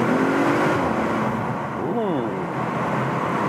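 An Audi RS 5 with a 2.9-litre bi-turbo V6 and quattro all-wheel drive revs on the road, its engine roar steady and close while a person talks over it.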